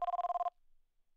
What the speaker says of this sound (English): What's that noise? That's the phone.